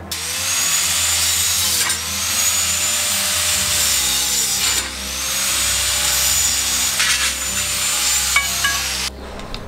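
Abrasive cutting wheel grinding through metal pull-up bar parts, a loud sustained whine with harsh rasping grit that swells and dips over several long passes and stops abruptly near the end.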